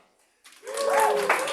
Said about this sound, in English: Maybe, if I say my name, would I get the same applause?